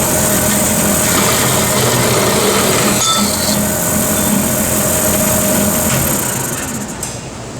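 A band saw cutting through low carbon steel bar clamped in a vise, giving a loud, steady mechanical whir with a constant high-pitched tone that holds evenly before easing off near the end.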